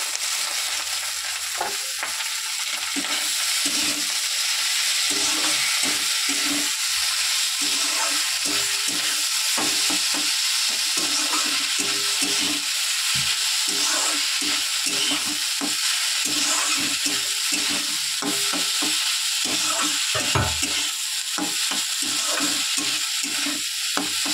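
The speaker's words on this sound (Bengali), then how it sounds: "এরপর সেদ্ধ করে রাখা ম্যাগিটা দিয়ে দেবো।" Boiled Maggi noodles tossed and stirred in a hot pan with masala, giving loud repeated scraping and clattering stirs over a constant sizzle, close up and with no talking.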